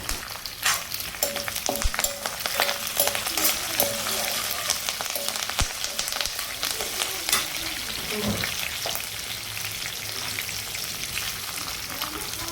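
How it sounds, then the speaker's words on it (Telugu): Green chillies, curry leaves and dried red chillies crackling and sizzling in hot oil for ajwain rice, busy and close with sharp pops and stirring scrapes throughout. "దీంట్లో పచ్చిమిర్చి, కరివేపాకు, ఎండుమిర్చి కూడా వేసుకొని ఫ్రై చేసుకోవాలి."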